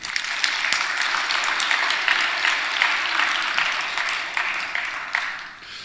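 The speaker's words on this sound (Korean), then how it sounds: "박수 한번 쳐줘요." A church congregation applauds after a youth group sings, producing a steady, dense wash of clapping that holds at an even level throughout before easing slightly near the end.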